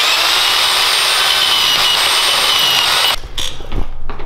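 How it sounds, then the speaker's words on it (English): A small power drill whines steadily at high speed for about three seconds while drilling a hole in a Can-Am Maverick X3, then slows and stops with a few clunks and rattles. "just to use the baby drill to drill the hole."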